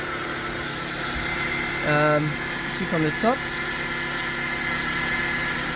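A car engine idles steadily after its crankshaft seal, pulley and tension pulley were replaced, a constant mechanical hum that runs through the whole clip while someone talks briefly over it.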